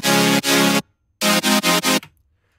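Future bass chords from a Serum synth soaked in plate reverb: two bright, wide sustained chord hits, a pause, then four quicker stabs, loud and upfront with a short reverb tail.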